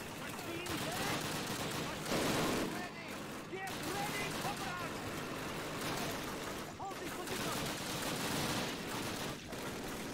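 Heavy gunfire from a PTRS anti-tank rifle in a Call of Duty battle at a sniper house, with loud repeated shots and a wash of battlefield firing running throughout, under a voice talking.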